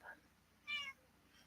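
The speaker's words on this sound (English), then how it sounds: "It was nice of her to meow quietly while you were talking." A cat gives two short, quiet meows, a faint one then a slightly louder one, close by during a home live stream, with low room noise and no clear talk.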